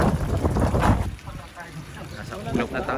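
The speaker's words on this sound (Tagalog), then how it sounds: "Ang lakas ng hangin." Strong mountain wind at Malico buffets the microphone in loud low rumbling gusts, easing briefly midway before picking up again, with voices talking underneath.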